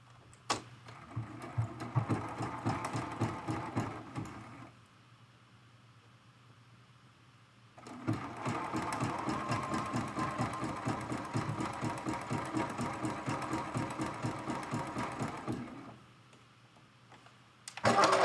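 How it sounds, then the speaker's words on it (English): A sewing machine runs a zigzag stitch to sew down fabric leaves on a quilted mug rug, in two bursts of rapid, even mechanical pulsing separated by a quiet pause, then starts again at the end. "let's go back to the zigzag stitch. And let's sew down these leaves"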